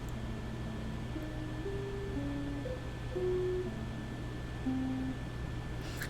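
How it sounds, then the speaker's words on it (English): A probe-tone trial is heard: a short melody of pure, sine-like tones stepping up and down in pitch, then a single test tone after it. The tones are fairly quiet over a steady low hum and hiss. "people are given a melody followed by a tone."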